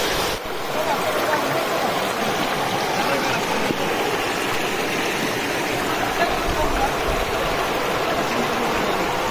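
Rushing water of the Nonai river in a forest in Udalguri flows steadily nearby, a constant broad wash of sound, with no talking heard.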